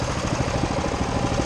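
A small mini bike engine runs steadily at a dirt off-highway vehicle park, its loud, continuous buzzing drone close by with a rapid pulsing beat and no voices.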